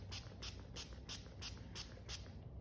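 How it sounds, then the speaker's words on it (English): A spray bottle misting water onto a paper towel over coffee filters, seven quick, evenly spaced hissing spritzes in a row, close and fairly quiet. "we're just gonna spray it again"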